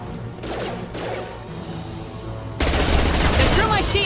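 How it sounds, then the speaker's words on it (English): Shotgun fire in the video game Mass Effect 2, a loud burst of blasts that swells into dense, continuous combat noise with shots and impacts overlapping under the game's mix. "Shotgun!"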